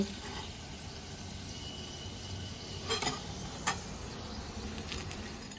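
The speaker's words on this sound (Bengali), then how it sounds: "বাকি বলগুলো আমি একই রকম ভাবে ফ্রাই করে নেব।" Egg lollipop balls fry in oil with a soft, continuous sizzle and a couple of faint clinks from a utensil, fairly quiet and close, no talk.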